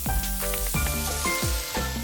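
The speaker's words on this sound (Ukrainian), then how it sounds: "додаємо олії та відправляємо наше м'ясо і обжарюємо з двох сторін" Meat sizzles and crackles in hot oil in a pan, close up, with a few clunks of cookware over the steady frying.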